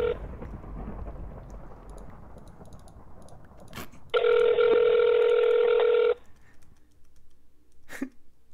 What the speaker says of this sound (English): Ringing, I think.